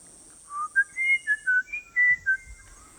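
A bird on an Amazon river island trades whistles with a person. About eight clear, pure whistled notes hop between pitches in a quick back-and-forth run, close and with no talking.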